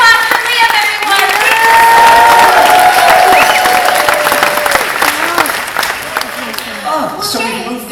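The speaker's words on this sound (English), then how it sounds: "And one more round of applause for Liam, everyone." A studio audience at a Star Wars behind-the-scenes event breaks into loud, sustained applause and cheering that holds steady for several seconds before thinning toward the end.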